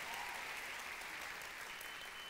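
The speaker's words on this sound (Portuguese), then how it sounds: "Dá uma salva de palmas para Jesus" Congregation applause at a church service, a steady, fairly faint wash of many hands clapping heard from a distance for a couple of seconds.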